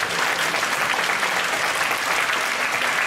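Dense, steady applause from a large church congregation at a Friday night service, loud and continuous throughout with no pauses.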